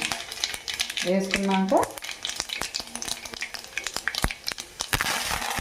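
Chana dal, mustard seeds and cumin seeds sizzling in hot oil, a crackling fry with rapid popping clicks, close up, while someone speaks briefly early on.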